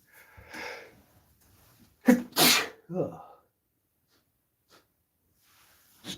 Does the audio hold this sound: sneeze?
yes